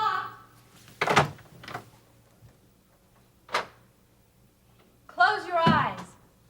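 An indoor door is unlocked and opened, giving a few brief knocks and thuds between stretches of conversation in the room.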